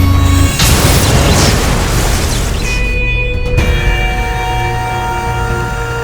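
A cartoon missile explosion erupts as a loud, sustained roaring boom of dense rumbling noise that fills the whole stretch, with a brief sharp crackle partway through and a lingering tonal ring underneath.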